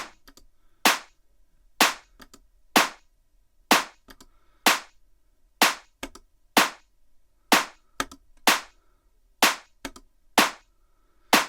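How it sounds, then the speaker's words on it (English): A tech house clap sample fires alone at a steady pulse, about a dozen sharp, close hits with short decaying tails, alternating between a thin dry version and a thickened, fuller processed one. "Can you hear how it's changed quite a thin clap into a thick, very thick clap?"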